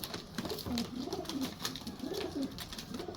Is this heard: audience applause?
no